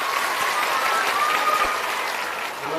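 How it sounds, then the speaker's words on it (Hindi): Crowd at an outdoor political rally in Bihar applauding, a sustained, even roar of many hands clapping at a distance, with a faint voice over it. "अब एक बार जोरदार ताली बजाइए आदरणीय प्रधान जी के लिए।"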